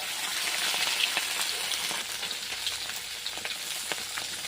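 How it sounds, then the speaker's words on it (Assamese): Pieces of rohu fish frying in a pan, a steady dense hiss with crackling pops of hot oil throughout, close and continuous, with no talk. "এইফালে আমাৰ মাছকেইডোখৰ প্ৰায় ফ্ৰাই হৈ গৈছে"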